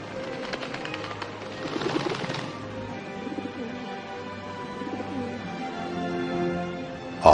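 A dove coos softly and repeatedly in a film scene about Jesus, low rounded calls set against a faint sustained musical backdrop.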